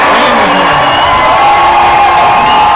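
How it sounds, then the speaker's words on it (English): A high school boys' basketball crowd roars after a slam dunk, a dense, loud wall of cheering, shouts and whoops that stays at full intensity throughout. "this crowd's going nuts"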